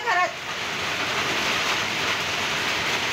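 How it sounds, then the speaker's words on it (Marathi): Heavy rain pours down in Solapur city, a dense steady hiss of downpour on surfaces that fills the whole stretch, with a brief brighter sound at the start. "सोलापुरात सध्या तुफान पाऊस आपल्याला पाहायला मिळतोय।"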